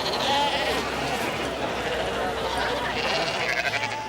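Sheep bleating during a traditional Icelandic autumn sheep sorting, a crowded flock calling continuously at close range with overlapping cries, while people talk over the din.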